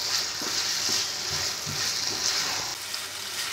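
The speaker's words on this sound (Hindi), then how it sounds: "हम इसमें बारीक कटा हुआ कैप्सिकम और पत्ता को भी बारीक कटी हुई डालेंगे और इस मसाले को थोड़ा सूखा होने तक भूनेंगे।" Masala with finely chopped capsicum and leaves fries in a pan with a steady close sizzle and a few soft scraping stirs, and nobody speaks.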